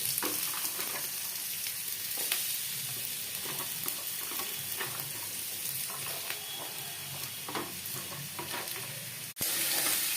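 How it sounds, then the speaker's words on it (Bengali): Cut potatoes being stirred and fried in hot oil with five-spice seeds on a gas flame, a steady close sizzle with repeated scraping stirs through it and a sharp knock near the end, no talking. "এবারে কেটে রাখা আলুগুলো দিয়ে তেলের সাথে ভালো করে নাড়িয়ে নিচ্ছি।"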